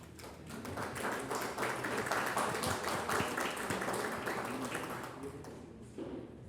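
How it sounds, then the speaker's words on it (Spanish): A philosophy congress audience gives a long, full round of applause for the Mundana organizers, dense clapping from many hands that holds steady and then tapers off, heard from a little distance in a large room. "demos un fuerte aplauso a todos y dense un fuerte aplauso a todos los que son parte de Mundana"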